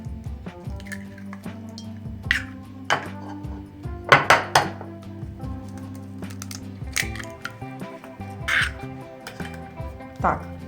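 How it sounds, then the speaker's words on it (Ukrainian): Eggs cracked and plopped into a bowl of milk for pancake batter, with wet drips and light clinks against the bowl while someone talks throughout. "Молоко я вилила в миску і додаю яйця."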